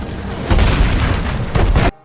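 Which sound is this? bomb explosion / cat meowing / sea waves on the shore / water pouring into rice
bomb explosion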